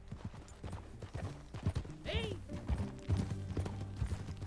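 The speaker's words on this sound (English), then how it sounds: "That new horse?" Horse hooves clip-clop at a steady walking pace in Red Dead Redemption 2, close and clear, with a short shout and a brief whinny-like tone partway through.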